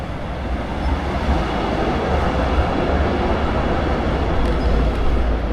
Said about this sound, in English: let's have a look at Graz as the little city trams whiz by me